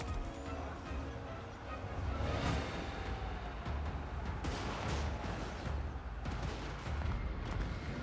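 Repeated booming cannon artillery blasts and rumbling explosions in the video game Total War: Warhammer 3, mid-distance, forming a dense continuous barrage of battle noise.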